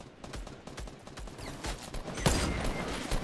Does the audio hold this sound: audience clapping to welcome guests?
no